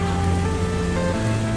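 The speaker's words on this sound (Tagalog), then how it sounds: "Yan na, pumapatak na ulan." Light rain beginning to fall on a long city walk in Makati, a steady soft patter spread evenly across the whole stretch with no voices over it.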